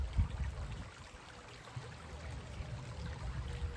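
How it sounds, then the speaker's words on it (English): A stream of running water trickles steadily outdoors, making a soft continuous wash with low rumbling underneath, mid-distance and fairly quiet, with no voices. "I love streaming water."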